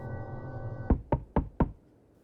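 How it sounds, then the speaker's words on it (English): Four sharp, evenly spaced knocks on a door ring out loud and close, right after a sustained tone cuts off, leaving silence afterward. "A knock."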